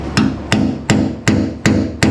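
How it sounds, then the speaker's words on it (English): A hammer strikes a punch to seat the gas tank of a Ford Pinto Cruising Wagon, six sharp metallic taps in an even rhythm about every third of a second, close and loud with no voices. "So get a punch and a hammer."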